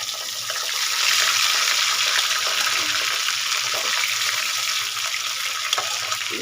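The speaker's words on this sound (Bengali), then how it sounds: "পুরো মাছ ভাজা হয়ে গেছে, পাবদা মাছ" Pabda fish fry in oil in a pan, a steady, fairly loud bubbling sizzle close by that rises after the first second and continues evenly, with a few light clinks near the end.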